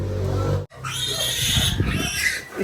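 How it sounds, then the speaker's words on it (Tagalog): A farm pig at a house grunts and snorts close by, with a loud, rough burst after a brief pause, the rasping calls rising and falling over a couple of seconds. "Ang alaga natin yung baboy po."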